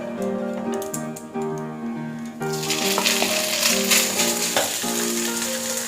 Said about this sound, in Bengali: নারকেল কোড়াটা দিয়ে এবার আমি একটু ফ্রাই করে নিচ্ছি